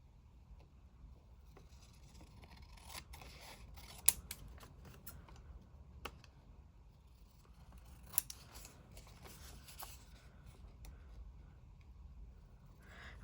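Scissors cut paper in a quiet craft setting, with faint, scattered snips and a few sharper clicks of the blades spread over a low background hiss.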